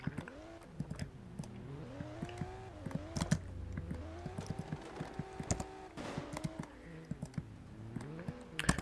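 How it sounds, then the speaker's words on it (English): A computer keyboard's up arrow key is tapped repeatedly during a drift driving game, with quick clicks scattered over the game's car engine sound. "I think my keyboard is malfunctioning because my up arrow, which I'm using for the gas pedal, keeps unpressing itself"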